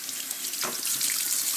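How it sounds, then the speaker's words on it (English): Cold water runs steadily from a tap while a blue crab is being cleaned at a sink, a continuous close hiss of flowing water with a brief splash as hands move under the stream. "Using some cold water"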